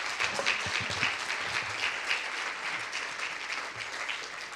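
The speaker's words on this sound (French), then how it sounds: "Je vous propose de les applaudir" An audience applauds guests at a morning session on finance in the collaborative economy, a steady mass of clapping that is moderately loud and eases slightly toward the end, with a few faint voices beneath.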